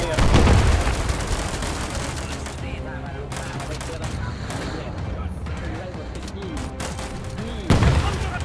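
Dense, continuous gunfire and explosions from the mobile WWII real-time strategy game War Alert in a 4v4 PvP match, with heavy bursts at the start and end and voices over the battle.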